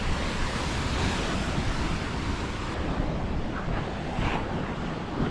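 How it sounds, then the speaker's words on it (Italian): Ocean surf pounds and washes continuously along the shore at La Palma, a broad, steady roar of breaking waves mixed with gusting wind noise on the microphone, with no voices. "La potenza dell'oceano in queste immagini e soprattutto in questi suoni."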